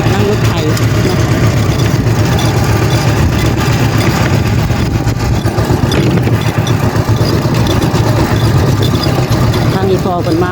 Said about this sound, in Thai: นั่งรถยาวๆนำกันนี่แหละนั่งรถไถเนาะ